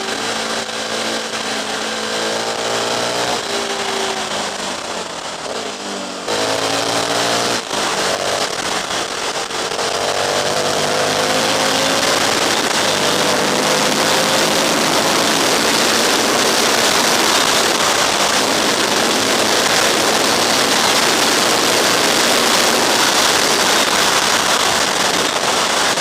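An Aprilia RSV 1000 Mille sportbike engine roars loudly and steadily under heavy wind rush, and its pitch climbs and then drops sharply at gear changes.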